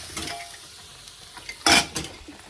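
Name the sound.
cooking rajma (kidney beans) for lunch in a pan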